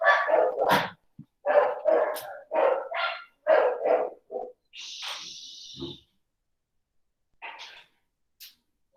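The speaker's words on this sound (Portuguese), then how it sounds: "Deixa eu fechar aqui a janela para ver se diminui um pouco o ruído, os latidos." Several dogs bark in quick bursts, sharp and fairly close, with a higher whining yelp midway and scattered barks trailing off into silence.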